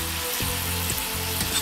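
Flour roux sizzling steadily in a pan, a dense continuous fry with a few soft scrape-like pulses from stirring, close and fairly loud with no talk.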